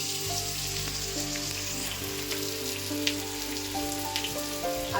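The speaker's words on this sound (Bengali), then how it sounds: "একটুখানি ভেজে নেবো আমি আলুগুলো" Potatoes seasoned with turmeric fry in a pan, giving a steady, close, broadband sizzle with soft crackles and no talking throughout.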